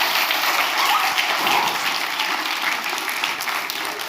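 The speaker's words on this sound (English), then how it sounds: "Let's give the wise men a round of applause for their generosity." A congregation at a Christmas Eve service gives a round of applause for the wise men, a dense, even wash of clapping that sounds almost like rain, sustained throughout.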